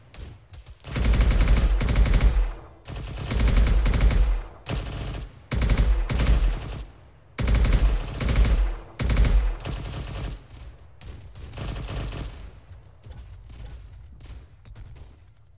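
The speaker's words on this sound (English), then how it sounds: "Holy shit, Leo, your turret just deleted the whole squad." Heavy turret gunfire in the video game Arma 3 pounds out in long, loud bursts separated by short pauses, tapering off toward the end.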